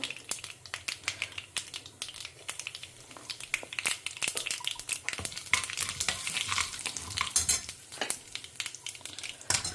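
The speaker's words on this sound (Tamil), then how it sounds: "கடுகு பொரிய ஆரம்பிச்சிடுது" Mustard seeds crackle and pop in hot oil while being tempered with urad dal and chana dal for ivy gourd. The spluttering runs as a dense, irregular patter of sharp pops throughout, close up and with no talk.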